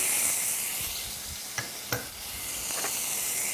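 Garlic and chili powder sizzle in hot oil, a bright continuous hiss heard up close, with a couple of sharp clinks from stirring near the middle.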